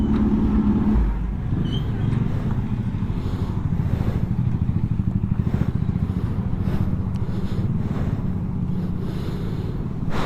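A motorcycle with a replaced exhaust pipe idles with a steady, throbbing engine pulse, loud and close, mixed with wind buffeting the microphone throughout.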